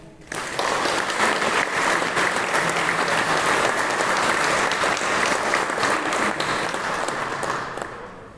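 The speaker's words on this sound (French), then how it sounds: "Nous pouvons encore les applaudir" A church congregation applauds the musicians after organ pieces at a Protestant worship service, a steady, dense round of clapping that fills the room evenly for several seconds before tapering off at the end.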